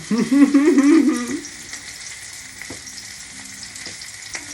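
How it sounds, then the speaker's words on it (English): An onion sizzles and crackles steadily in a hot frying pan. A voice-like tone rises briefly over it at the start, and there are a few light clinks later. "there's a bit of browning on this sizzling onion."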